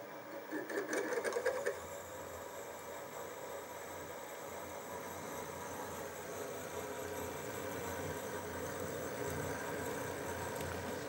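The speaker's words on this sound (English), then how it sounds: "And now reaming with a quarter inch reamer." A quarter-inch reamer cuts a hole in a bar on a machine tool, a steady low mechanical hum and faint cutting whir running continuously, with a brief louder rattle near the start.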